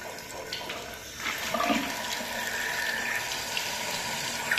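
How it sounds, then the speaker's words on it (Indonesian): Water runs from a tap in a steady rushing stream, getting louder and fuller after about a second and then flowing continuously, close and alone without talk. "saya kasih air dulu di keran."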